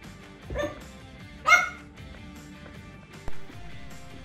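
Dogs at play give a few short barks and yips, three separate bursts spread over several seconds, fairly close, with quiet pauses between them.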